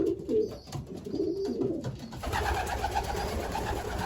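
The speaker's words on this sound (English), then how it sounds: "Look, I put him in, he's already cooing." An imported racing pigeon coos in soft, low, throaty bursts for about two seconds, close by. A broader rustling noise follows and fills the rest.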